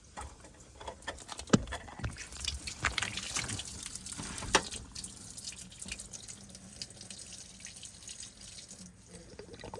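Water drains from an engine drain plug on a Mastercraft NXT 24 boat being winterized, an irregular trickling and splashing stream with scattered drips and clatters, close and moderately loud.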